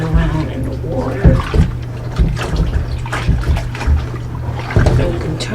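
A sponge swishes and rubs plastic milk crates through water, three at a time, with uneven splashing and sloshing. A person talks over the washing.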